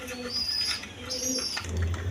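Soft, repeated cooing of pigeons at a breeding farm, several low burbling calls overlapping at close range along with light chirps and background rustle.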